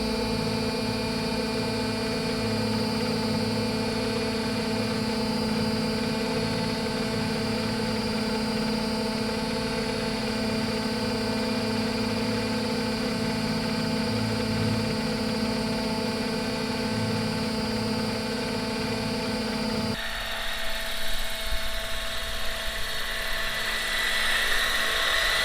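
An 800-size Roban EC130 radio-controlled helicopter flies close by, its engine and rotors giving a steady, loud whine with strong tonal drone that suddenly shifts and roughens near the end.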